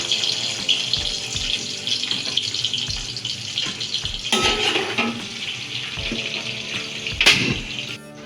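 Onions added to a pan after frying potatoes for a chicken curry, giving a steady close sizzle with intermittent low knocks and stirring scrapes, no talk.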